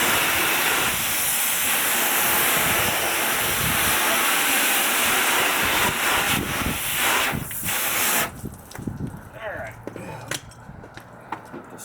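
A strong water spray hisses loudly and continuously while rinsing a car's wheel well painted with Dupli-Color tire paint, then drops away to quieter splashing and drips, with a voice talking faintly now and then.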